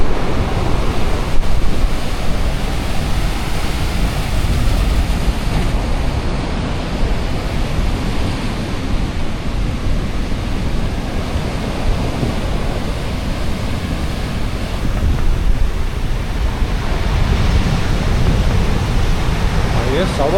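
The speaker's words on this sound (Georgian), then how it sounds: "ახლა ალბათ ზღვა ძალიან ტალხიანია." Rough sea off Madeira sends a continuous, heavy roar of crashing surf, loud and close, mixed with wind buffeting the microphone, while a voice talks faintly underneath.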